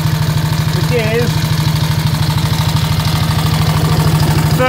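A 1927 BSA B27 Wedge Tank 250cc single-cylinder motorcycle runs at a loud, close, steady idle with an even, rapid thumping beat, and a voice talks briefly over it.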